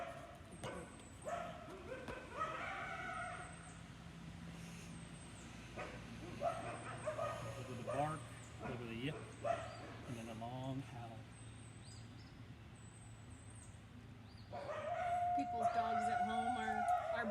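Several red wolves at a zoo howl in overlapping, wavering tones at a moderate distance, with yips and barks mixed in and a person talking over parts of it.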